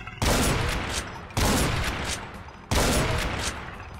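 Loud gunfire from the video game Brutal Doom 2 with Project Brutality, three dense booming bursts at steady intervals that fill the whole clip.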